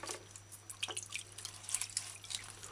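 Water drips and trickles as a pineapple is washed by hand under running water, heard as faint, irregular drops and splashes against a quiet background.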